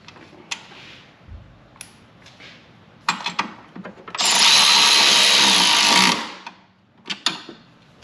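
A power tool whirs steadily for about two seconds, driving a bolt back into a hood strut bracket on a JL Jeep Wrangler Rubicon, framed by clinks and handling noises from metal parts before and after.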